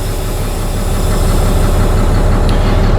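A manual-transmission truck with air brakes idling, a loud, close, steady diesel rumble with constant low vibration and a faint knocking texture, unchanging throughout with no talk.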